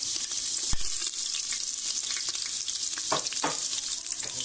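Food fries in hot oil on a home kitchen stove with a dense, close, steady crackle and hiss, plus a few soft knocks and brief scraping sounds partway through.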